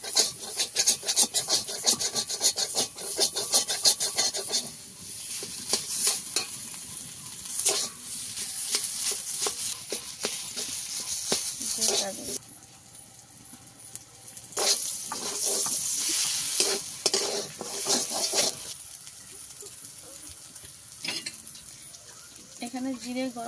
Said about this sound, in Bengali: এখানে ভালো করে আলুর পুরটাকে আমি ভালো করে কষিয়ে নেব একটু।